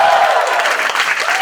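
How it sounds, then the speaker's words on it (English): Audience applause for the comedian Vir Das, a dense wash of clapping hands that stays steady and loud from start to finish with no talk over it. "Special applause for Vir Das"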